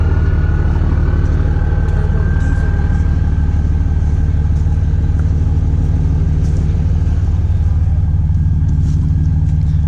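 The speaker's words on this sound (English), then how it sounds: "Check out this Cummins here." A Cummins diesel truck engine idles with a loud, steady low rumble close by, never letting up.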